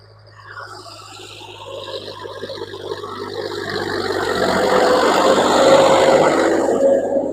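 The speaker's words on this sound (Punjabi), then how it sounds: "ਆਪਣੇ ਖੇਤ ਦੇ ਵਿੱਚ ਚੱਲਦਾ ਟਰੈਕਟਰ ਤੁਹਾਨੂੰ ਵਿਖਾਉਣੇ ਪਏ ਆ" A 2008 New Holland 3630 tractor engine runs in a farm field, a close, steady mechanical drone with a tonal hum that gradually swells louder over the clip.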